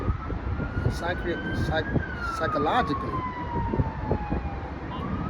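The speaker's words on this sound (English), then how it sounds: "you have sirens in the background" Emergency vehicle sirens wail steadily in the background, rising and falling through the whole stretch while someone talks over them and traffic rumbles nearby.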